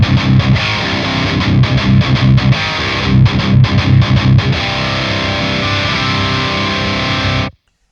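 An electric guitar is played through a Gigagain overdrive pedal, giving loud, heavily distorted strummed chords and rhythmic chugs that sustain and then cut off abruptly.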